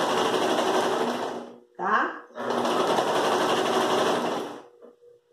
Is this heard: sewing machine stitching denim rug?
yes